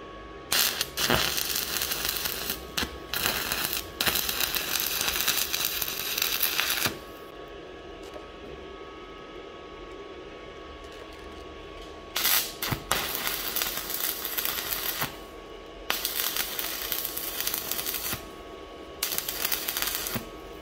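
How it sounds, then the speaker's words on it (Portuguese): Welding of steel tower modules gives loud crackling buzzy bursts of several seconds each, separated by quieter gaps of low background noise, close and dry. "Então eu vou soldar dessa forma."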